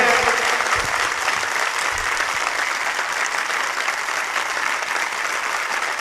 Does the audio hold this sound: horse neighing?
no